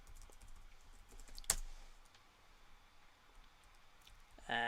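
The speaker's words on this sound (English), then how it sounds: "I'll just type in Christmas Parade into Google." Someone types on a computer keyboard with a run of soft, close keystrokes, broken by one sharper knock and ending in a louder burst of noise.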